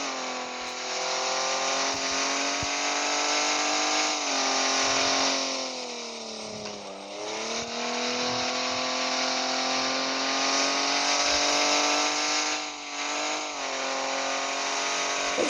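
A car's engine drones steadily from inside while it is driven, its pitch rising and falling gently with speed changes, loud and continuous with no talk.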